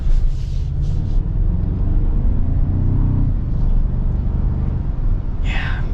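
A 2024 Toyota Tacoma TRD Off-Road pickup with a 2.4-liter four-cylinder engine accelerating, a steady low engine rumble heard from inside the cab, with brief wind and road noise.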